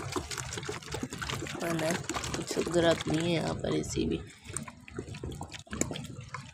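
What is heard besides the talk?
water flowing into a garden bed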